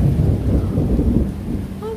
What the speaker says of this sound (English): here comes the rain, it's starting